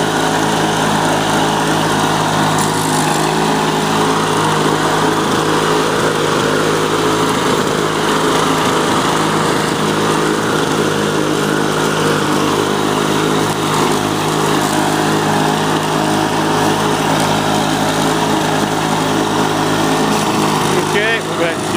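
A Lawnboy Duraforce lawn mower engine runs steadily through grass, a loud, constant high-pitched drone that holds for the whole stretch, with a voice talking over it.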